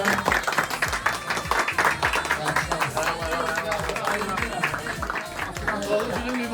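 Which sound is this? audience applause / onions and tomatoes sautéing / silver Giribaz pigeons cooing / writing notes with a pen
audience applause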